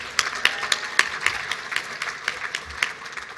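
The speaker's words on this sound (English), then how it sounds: "Give yourselves a round of applause." Audience applause at an awards dinner: a brief burst of clapping from a crowd in a banquet room, with distinct individual claps standing out, fairly close and clear.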